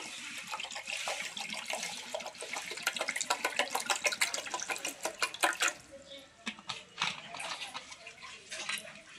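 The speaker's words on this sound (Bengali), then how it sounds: "এখন দিয়ে দেব পরিমাণ মতন ঠান্ডা জল।" Cold water poured into scooped-out mango pulp while making aam panna sherbet, a steady splashing pour at close range with brief gurgling bursts, easing slightly toward the end.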